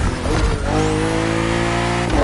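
BMW M2 and M4 race cars from the 2013–2014 series scream along a narrow, twisting circuit in The Crew Motorfest, one engine rising and holding a steady high rev close by, with a brief tire squeal.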